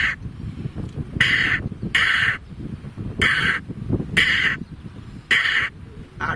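A person mimics a house crow's caw, giving five sharp, nasal caw calls in a loose rhythm with short pauses between them, close and clear over faint background noise.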